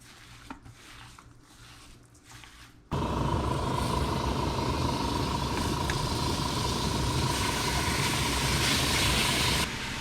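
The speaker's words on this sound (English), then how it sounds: "Give it a nice sear." Pork for homemade carnitas hits a hot pan partway through, bursting into a loud, continuous close searing hiss after a quieter opening.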